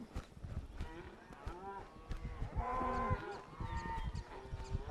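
Cattle moo repeatedly as a herd is pushed up a hill along a trail, overlapping calls near and far, some drawn out, over steady shuffling and outdoor background noise.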